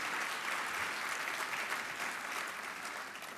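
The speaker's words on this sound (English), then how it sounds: "Yeah, that would be a good thing to clap for." Steady applause from an audience at a lecture introduction, a fairly faint but continuous wash of clapping across the whole moment.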